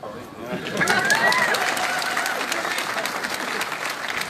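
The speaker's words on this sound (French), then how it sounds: "et qu'on applaudit s'il vous plaît" Applause from a gathered crowd of workers at a workers' council (CSE) meeting at the Fonderie de Bretagne foundry, steady dense clapping lasting several seconds, moderately close, with some voices and chatter mixed in underneath.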